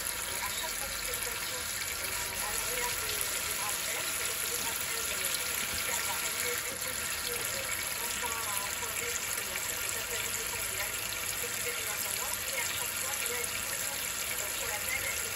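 Water runs steadily from a hot and cold tap while freshly descaled household pipes are flushed, a constant hiss and splash that continues unbroken at close range, with someone talking over it.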